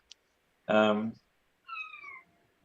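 Female pet cat meowing nearby, one fairly loud drawn-out meow followed after a pause by a softer, shorter falling call, with quiet surroundings and no talk.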